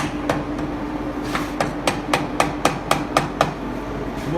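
A hammer whacks metal stems being shaped for a butterfly sculpture in a workshop, about a dozen sharp, close strikes that land in a steady rhythm once they get going.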